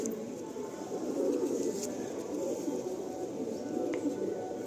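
Pet pigeons kept for flying coo softly and intermittently over a steady low background hum, faint and somewhat distant, with no talk.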